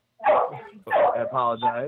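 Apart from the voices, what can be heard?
dog barking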